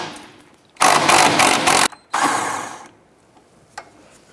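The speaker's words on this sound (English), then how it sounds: "I'm going to use our 15mm socket to remove this here." A 15mm socket ratchet loosens a sway bar bracket nut on a 2006-2013 Chevrolet Impala, giving two close bursts of rapid clicking, the first about a second long and the second shorter, followed by a few faint metallic taps.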